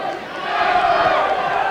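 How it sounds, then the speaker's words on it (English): A partisan Glasgow boxing crowd roars in support of hometown fighter Gary Jacobs, a dense, sustained wall of cheering and shouting that swells slightly and holds steady, loud and close throughout. "Jacobs' punch is the one that gets the bigger cheer from this extremely partisan crowd"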